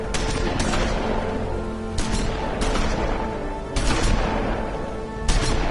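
Dense, loud bursts of gunfire fill a scene in the video game The Wolf Among Us, rapid shots rolling on continuously with sharper volleys every second or so.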